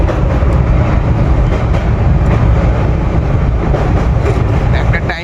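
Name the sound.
train running on the rails, Kolkata to Darjeeling trip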